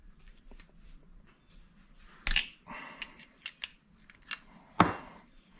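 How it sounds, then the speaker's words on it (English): Metallic clicks and clanks of a 10mm wrench working loose the carburetor float bowl on a drift trike, a few sharp separate knocks and ratchety taps over a quiet background. "So we're going to start by taking the 10mm wrench and taking off the bowl."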